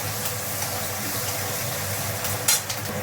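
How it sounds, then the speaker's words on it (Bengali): Garlic and green chilli frying in hot oil as a tempering, giving a steady close hiss and sizzle with a brief brighter burst of crackle near the end, no voices present. "এটা যে তেলটা হয়ে গেছে, তেলে দিয়ে দিলাম ফোড়নের মতো করে।"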